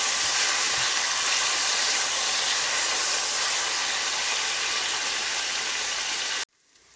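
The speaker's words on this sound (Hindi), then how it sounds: "अब हमने पैन में आधा कप ऑलिव ऑयल लिया है और उसमें ये टमाटर जो काट के रखे थे उनको अच्छी तरीके से फ्राई कर लेंगे" Chopped tomatoes fry in half a cup of olive oil in a pan with a loud, dense, continuous sizzle that cuts off abruptly near the end.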